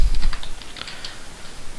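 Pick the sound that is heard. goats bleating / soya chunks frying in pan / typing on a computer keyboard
typing on a computer keyboard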